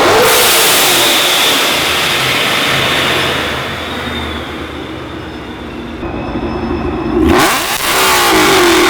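A Mustang fitted with an extremely loud aftermarket exhaust revs hard and close by, its roar climbing and holding, then dipping briefly before surging back loud again, with no talking over it.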